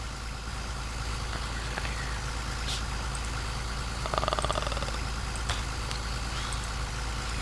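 Tractor engine idling in Farming Simulator 2017, a steady low rumbling drone throughout with faint clanks and a brief rattling burst midway, no talking.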